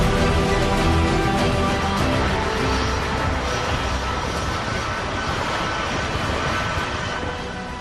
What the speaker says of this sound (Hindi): ऑक्सीजन टैंकर ढोते एयरफोर्स के विमानों को देखा